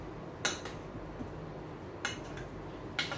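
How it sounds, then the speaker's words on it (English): Yogurt is worked thoroughly into lamb kebab with a spoon: sparse, faint metallic clinks against a bowl come every second or so over a quiet background. "we start to mix"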